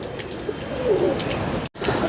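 Domestic pigeons kept by a fancier coo in a loft, a paired female among them, with low soft burbling that runs steadily for about two seconds and breaks off briefly once near the end.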